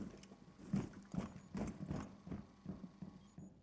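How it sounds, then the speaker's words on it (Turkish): Footsteps thud on stairs in Rainbow Six Siege, a run of about eight uneven muffled knocks spaced roughly every half second, fairly faint and somewhat distant, with no voices. "Burada bir yerde adam ayak sesi duyuyoruz"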